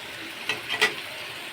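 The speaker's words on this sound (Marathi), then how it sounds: "या मच्छीला तुम्ही जेवढं तेलामध्ये परतून घ्याल एवढी घट्ट होईल" Fish frying in oil in a pan with masala gives a steady soft sizzle, with a few brief stirring scrapes standing out near the middle; no voices.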